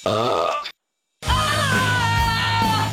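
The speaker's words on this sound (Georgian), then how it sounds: "ყველაზე დიდი დაბოყინება" A loud, drawn-out burp rumbles up, followed by a brief silence and then a second long, throaty belch.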